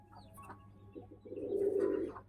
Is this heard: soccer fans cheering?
no